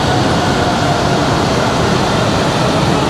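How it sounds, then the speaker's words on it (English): A Kuala Lumpur monorail train rolls past near the Petronas Towers, giving a loud, steady broadband rush and rumble that holds constant throughout, with no talking. "Look at the monorail"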